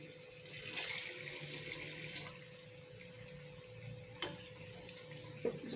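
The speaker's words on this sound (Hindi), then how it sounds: "तो मैं इसके अंदर 2 गिलास पानी डाल रही हूँ।" Water poured from a glass into a cooking pot for mutton paya gravy, a steady splashing pour for about two seconds, then quieter trickles and a couple of faint clinks, heard close in a home kitchen.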